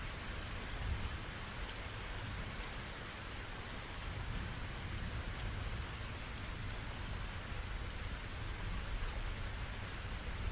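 Steady rain pours on surfaces while low thunder rumbles beneath it, a dense, continuous hiss of downpour with no voices.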